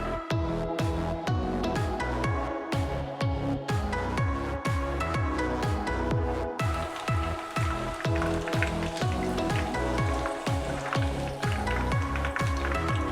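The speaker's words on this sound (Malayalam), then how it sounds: "കുറേശ്ശെ ഇട്ടിട്ട് വേണം നമ്മൾ വറുക്കാനായിട്ട്." Battered chilli chicken pieces deep-fry in hot oil, giving a continuous, fairly loud crackling sizzle. It is a dense patter of pops that holds steady throughout, with no talking.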